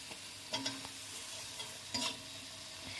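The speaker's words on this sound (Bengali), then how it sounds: "ভালো করে মশলাটাকে এবার আমরা কষিয়ে নেব" Spice paste fried with salt, chili powder, turmeric and chopped tomato for a ridged gourd and egg curry: a soft, close sizzle with two distinct scraping stirs of a spatula against the pan, and no talking.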